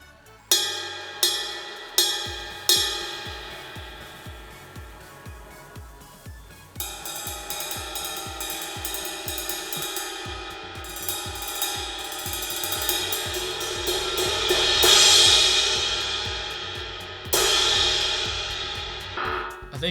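Ride cymbal struck repeatedly with a stick, a bright ping on each hit over a long shimmering wash that builds as the strokes grow faster, with a couple of louder crash-like accents.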